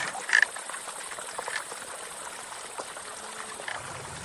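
Irrigation water flowing along a channel on a Moroccan plateau, a steady outdoor trickle and gurgle with a few faint splashes.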